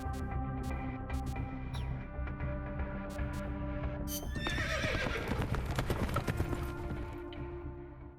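Game horse in Metal Gear Solid: Peace Walker, with steady clip-clop hoofbeats over a low musical drone and a loud whinnying neigh partway through, all fairly close and without talk.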